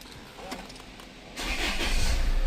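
A car with an electric parking brake that has just been repaired is started, its engine catching after a quiet interval and then settling into a steady, close idle rumble.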